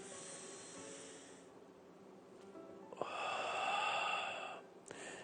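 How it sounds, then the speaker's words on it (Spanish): Deep, slow breathing during a prayer workshop, inhaling through the nose and exhaling through the mouth: faint, airy, hissing breaths with a fuller exhale swelling midway, heard alone. "Una respiración profunda y tranquila. Inhalas por la nariz,"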